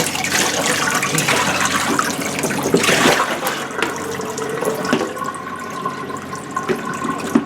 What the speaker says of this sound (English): give these another little slosh like that. Wash some of the salt out of it